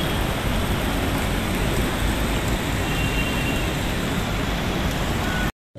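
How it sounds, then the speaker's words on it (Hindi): Heavy rain pours steadily in a dense, unbroken hiss, loud and close throughout, with no voices, cutting off abruptly at the end. "देखिए बारिश कितनी तेज़ हो रही है।"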